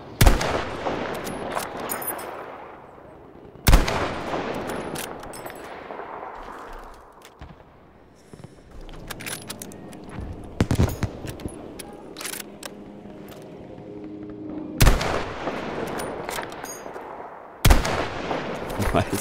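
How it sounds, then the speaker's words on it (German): Sniper rifle shots in Battlefield V ring out as several loud, sharp cracks spaced seconds apart, each trailing into a long echoing decay, with quieter in-game clatter between them. "Ich schieße die ganze Zeit zu hoch."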